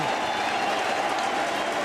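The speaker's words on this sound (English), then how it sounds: "The crowd stands on their feet again." Baseball crowd at a Dodgers–Cardinals game standing and cheering in the stadium, a dense, continuous roar of applause and shouting filling the whole stretch at full volume.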